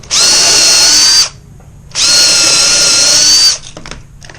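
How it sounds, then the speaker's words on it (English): A power drill bores pilot holes into raised garden bed boards in two loud, close bursts of about a second each, whining at a steady pitch with a short pause between. "then we'll drill our pilot holes."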